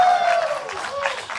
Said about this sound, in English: please give a cheer for me to go wild for the peninsula